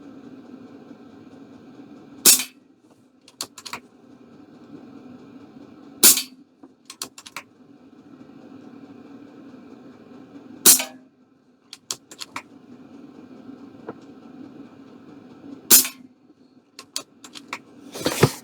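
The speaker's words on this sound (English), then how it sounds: "Man, I was shooting that pretty fast" An Air Venturi Alpha .22 compact PCP air rifle fires four sharp, loud cracks spaced a few seconds apart, with softer mechanical clicks between shots over a low steady hum and no talking.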